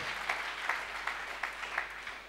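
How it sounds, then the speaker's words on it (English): A church service congregation applauds, a soft, steady wash of clapping with a few sharper claps poking through, heard at a moderate distance for a couple of seconds. "Clap for Dr. Jesus."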